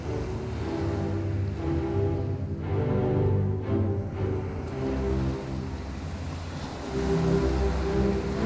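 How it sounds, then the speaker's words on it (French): Ocean waves roll in a steady low wash, swelling and receding with a rumbling surge, moderately quiet and heard alone. "J'entends le bruit des vagues."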